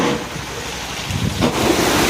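Rain drumming on a car while riding in the back seat, a dense steady hiss with low rumbling road and wind noise, and no talk.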